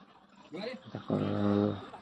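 A dog being hauled up out of a well in Ratnagiri lets out a close, strained whimper that rises into a drawn-out whine lasting under a second.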